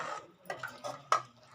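Mutton curry being stirred in a pot after powdered masala is added: a few soft scraping, clinking strokes of a spoon against the pot, close and fairly quiet, with short pauses between them and no talk.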